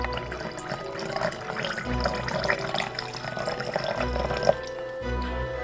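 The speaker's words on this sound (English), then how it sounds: "And lastly, we're going to top it off with some ginger beer." Ginger beer is poured to top off a Yule Mule cocktail already holding cranberry juice, a soft, close liquid pour with faint fizz, splashes and a few handling bumps, and no talk over it.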